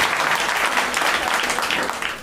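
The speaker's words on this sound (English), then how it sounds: "clap for your servers running around, by the way." A stand-up comedy crowd bursts into loud, sustained clapping for the servers working the room, a thick even wash of applause that tapers slightly at the end.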